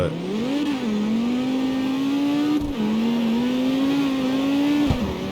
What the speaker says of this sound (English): Oh, the turbo sounds so good.